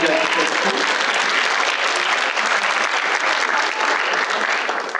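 Audience applause, dense and steady clapping that fills the whole clip at a loud, even level without letting up.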